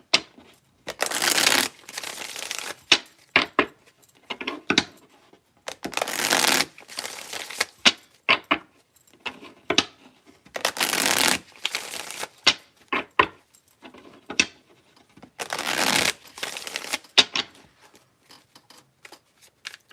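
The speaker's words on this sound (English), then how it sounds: "I'm going to pull some divine feminine cards." Divine feminine oracle cards shuffled by hand in repeated bursts, crisp riffling and flicking close up with short pauses between rounds, no talking.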